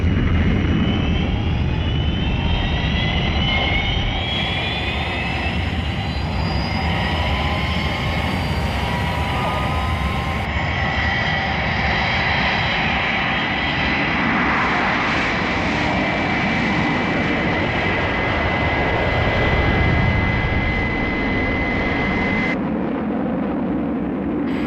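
The Fireflash aircraft takes off at full power, a loud, sustained jet roar with rising whines and whistling tones that swell and hold steadily throughout, with no voices over it.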